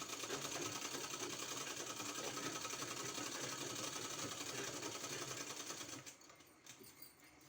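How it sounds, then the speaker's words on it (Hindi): A sewing machine runs steadily for about six seconds, stitching a centre line on a garment neck design, then stops, leaving faint handling sounds. "पहले इस तरह से बीच में सेंटर में इस तरह से सिलाई लगा लेना है।"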